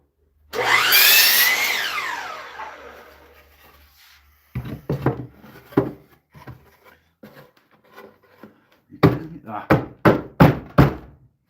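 A power saw trims a piece of redwood for a planter: a loud, close, whining cut of about two seconds fades out, followed by a run of sharp wooden knocks and thunks with short pauses between them.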